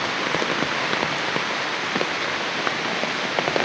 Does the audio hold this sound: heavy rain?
yes